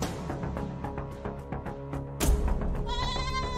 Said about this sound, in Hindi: बकरी को शोर आ रहा है यार